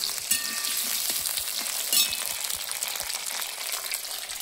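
Potatoes and tomatoes fry in hot oil with bay leaf, cumin and dried chilli, giving a loud, steady sizzle close up with occasional crackles and stirring clicks.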